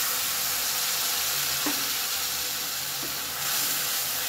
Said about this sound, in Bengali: সর্ষের যে পেস্টটা আমি ছেঁকে রেখেছিলাম সেটা এখন এর মধ্যে ঢেলে দিই